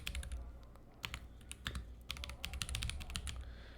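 Rapid clicking keystrokes on a computer keyboard as a git log command is entered, a quiet close run of irregular taps with brief pauses and no talking.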